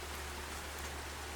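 Steady rain pouring in the farming game Farming Simulator 25, an even, continuous hiss of rainfall on surfaces with no voices.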